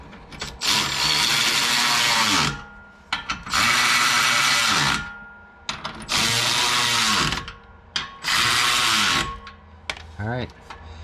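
Exhaust clamps on a Borla ATAK system for a 2015-22 Mustang are run down with a power tool in four loud, close whirring bursts separated by short pauses, ending with a brief ratcheting sound.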